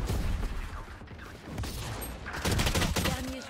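Pistol gunfire in the video game Valorant: rapid sharp shots crack out over loud, dense in-game combat sound.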